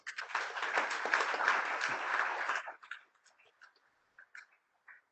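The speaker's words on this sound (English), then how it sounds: "just give me a big round of applause" Audience applause at the inaugural session of a college cultural programme, a dense burst of clapping lasting about two and a half seconds before cutting off abruptly, leaving a few scattered faint claps and taps.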